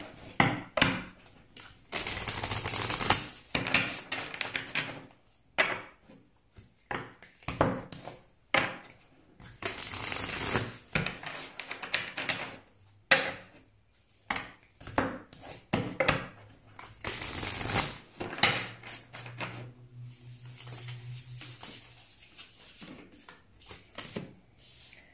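Oracle cards are shuffled by hand in repeated bursts of dry riffling and slapping, quiet and close, with gaps between the bouts across the stretch.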